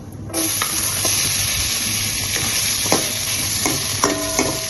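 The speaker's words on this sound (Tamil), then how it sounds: "எண்ணெய் நல்லா சூடாயிடுச்சு. இப்போ நம்ம எடுத்து வச்சிருந்த ஸ்பைசஸ்லாம் சேர்த்துக்கலாம். வெங்காயத்தை சேர்த்துக்கலாம்." Onions and spices frying in hot oil for a chickpea masala gravy, a loud, steady sizzle and hiss with occasional clinks from stirring.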